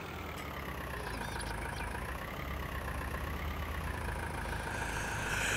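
Tractor engine idling in Farming Simulator 19, a steady low mechanical rumble with a faint knocking texture, holding an even level for several seconds with no voices.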